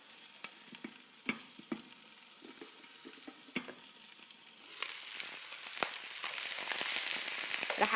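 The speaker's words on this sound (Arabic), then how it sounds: "رح أحرك شوي" Chicken and rice in a pan, stirred with sharp intermittent scrapes and knocks over a soft sizzle that swells louder toward the end, close up with no talk.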